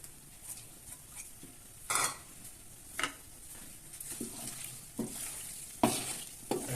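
Cooked macaroni being tossed with chopped coriander in a pan, quiet scraping and stirring strokes with several sharper spatula scrapes and faint sizzle between them.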